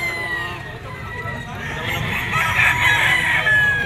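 A yellow-legged stag rooster of sweater bloodline crows and clucks at a pet market, a loud, steady call that swells toward the end over crowd noise.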